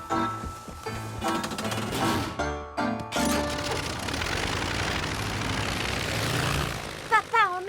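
A cartoon propeller airplane drones steadily and loudly throughout, with animated character voices and music layered over the engine hum.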